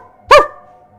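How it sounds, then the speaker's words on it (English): A single sharp dog bark rings out close and loud, then quickly fades into near silence. "He was barking."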